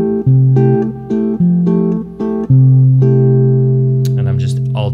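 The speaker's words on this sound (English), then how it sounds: "we can get a little fancy and we can do an alternating bass," Guitar playing Brazilian comping with an alternating thumb bass, plucked chord strokes in a syncopated pattern that settle into a long ringing chord, with a faint voice near the end.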